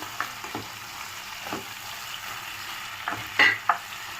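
Carrot, capsicum and cashews fry in a pan for meal maker biryani, a soft steady sizzle with a few scattered spatula knocks and a brief louder clatter near the end.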